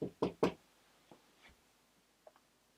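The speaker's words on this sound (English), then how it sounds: "Could you make a knocking noise like this?" Three sharp knocks in quick succession on a door or wall inside an empty house, followed by a few faint, scattered taps and creaks in near silence.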